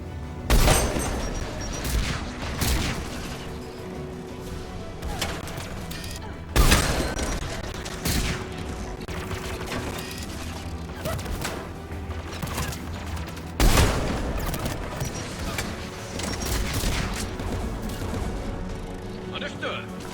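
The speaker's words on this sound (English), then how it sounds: "AA guns ahead of us." Anti-aircraft guns firing in the Mass Effect 3 video game, repeated heavy booming volleys with loud thuds every few seconds over a dense battle rumble, with game voices talking at times.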